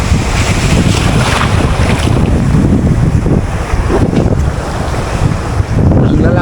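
Loud wind buffets the microphone over crashing big sea waves around a small fishing boat out after bugaong, a constant roaring wash with no clear speech.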